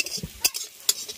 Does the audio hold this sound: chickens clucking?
no